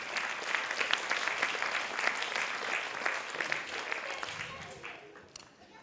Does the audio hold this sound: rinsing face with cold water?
no